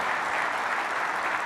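Conference audience applauding steadily at close range, a dense, even wash of clapping with no break through the short stretch.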